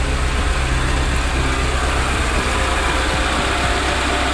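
A car engine idles steadily at about 1000 RPM while the carburetor and ignition distributor are tuned, giving a continuous close, loud low rumble with a constant even throb and no talk.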